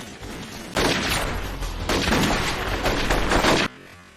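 Gunfire in a film scene comes as a dense, loud burst of rapid shots that runs for about three seconds with a short break, then stops abruptly.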